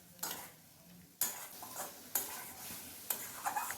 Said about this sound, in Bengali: আমি ভেজে রাখা আলুগুলো দিয়ে দিলাম আর সামান্য একটু গরম জল দিয়ে আলুটাকেও মশলার সাথে বেশ কিছুক্ষণ কষিয়ে নেবো